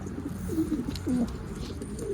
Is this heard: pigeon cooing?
yes